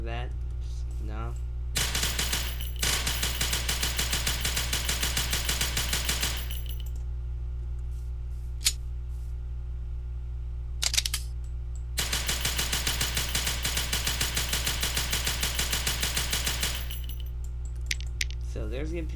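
Call To Battle 2's MP40 submachine gun in video game play, firing in two long sustained automatic bursts separated by a short pause and a few isolated shots, loud and close over a steady low background hum.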